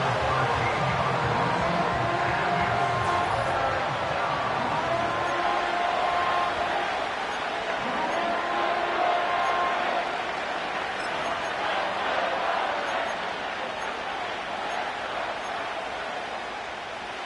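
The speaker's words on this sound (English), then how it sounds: "This crowd turning up the decibel level." Loud football stadium crowd roaring and cheering after a big defensive sack, a dense sustained wall of voices that swells and holds before easing slightly toward the end.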